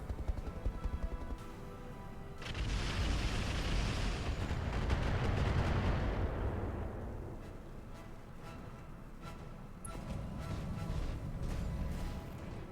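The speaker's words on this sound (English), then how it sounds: "Ow, ow, ow, ow, ow, that's an autocannon." Autocannon fire in the BattleTech RogueTech video game: a loud, dense burst of rapid booming impacts that swells after a short quieter lead-in, then fades into lingering rumble and scattered smaller hits.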